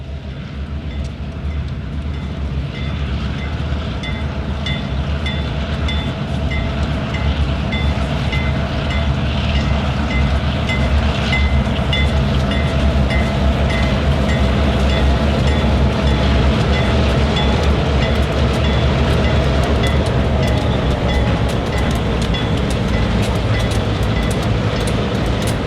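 A Norfolk Southern freight train rolls past loud and close, with a continuous roar of railcars, rumbling wheels and rhythmic clickety-clack over the rails sustained throughout, and no voices.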